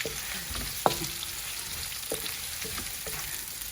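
Onions fry in a large wok for pork adobo, a quiet steady sizzle heard up close with a sharp clink of a utensil near the start and a few lighter stirring knocks after it.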